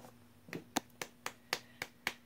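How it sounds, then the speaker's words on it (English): Seven sharp hand claps at a steady, moderately quick pace, close and fairly quiet, alone in a quiet room. "Clap your hands if you agree."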